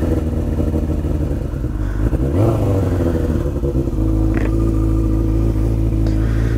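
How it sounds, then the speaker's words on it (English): An early-2000s carbureted motorcycle, cold in the morning, idling close and loud with a deep, steady rumble, a brief rev and some clatter in the middle. "Helps to put the bike in neutral before we start it."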